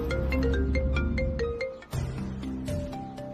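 A melodic phone ringtone plays a repeating electronic tune of bright notes, fairly loud and steady, with no one talking.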